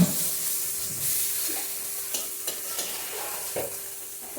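Spices fry in a pan for a spicy fish-head dish, a continuous soft sizzle broken by repeated scraping strokes of a stirring spoon, close and moderately loud.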